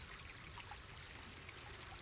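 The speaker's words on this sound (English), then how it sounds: "the important thing is to remember to water them in" Water pours steadily from a watering can or hose onto newly planted plants in a garden border, a faint continuous hissing trickle with no voices.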